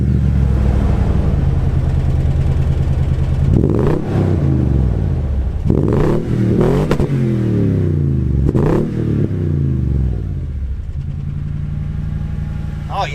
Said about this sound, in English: So one thing you do get with the TRD Pro package is this TRD exhaust, and it just sounds amazing.